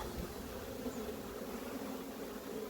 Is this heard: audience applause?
no